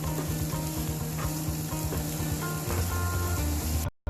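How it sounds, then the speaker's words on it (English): Sesame seeds sauté in hot sesame and chili oil for a beef noodle soup, a dense, close, continuous sizzle with light crackling that cuts off abruptly at the end. "Add a tablespoon of sesame seeds and saute that well."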